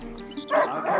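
A dog in the video game A Plague Tale: Innocence lets out a single short bark-yip over a low background hum, with a whimpering tail at the end.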